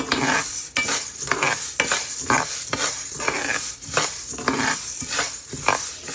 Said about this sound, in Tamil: இப்போ அடுப்பை மீடியத்தில் வச்சுட்டு இந்த பயரை இனி வறுத்தெடுக்க போகிறோம்